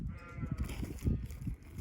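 Sheep arriving on a farm bleat in a few faint calls over low rustling and footsteps, fairly distant and quiet.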